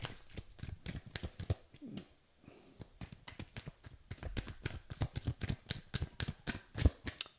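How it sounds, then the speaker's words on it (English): Tarot cards are shuffled by hand in a quick run of soft riffling taps and flutters, close and fairly quiet, with a brief pause partway through. "Do I pull from the top? No, you want me to shuffle."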